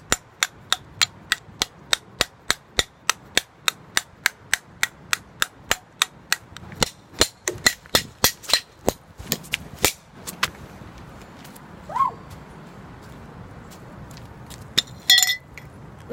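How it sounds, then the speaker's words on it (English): A Talking Tom toy, already damaged by a lawnmower, is tapped lightly again and again until it breaks: a long run of sharp, evenly spaced clicks and knocks, later irregular cracks and a few rattling clinks close to the microphone. "So I'm just gonna lightly hit it until it breaks."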